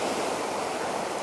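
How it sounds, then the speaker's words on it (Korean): Summer sea swell washes over the rocks at a fishing spot on an outer island near Mijo in Namhae, a loud, continuous rushing wash that fills the scene with no talk. "너울 파도가 간혹 가다가 이렇게 발로 적셔주니까 시원합니다."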